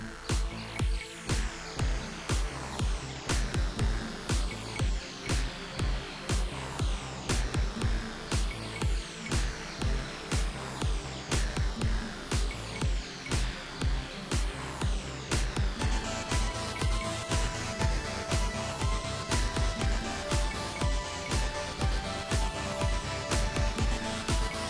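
A finished beat track built on a SynthStation, compressed and mixed down, with a steady rhythmic pulse of punchy drum hits under layered synth tones, playing continuously with no talking.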